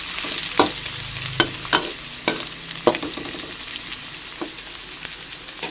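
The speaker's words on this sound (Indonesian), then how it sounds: "langsung aja kita goreng sisa tempenya tadi" Pieces of tempeh fry in hot oil with a constant sizzle, broken by several sharp clicks and scrapes from stirring at irregular intervals.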